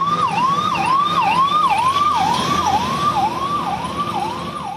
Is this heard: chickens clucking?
no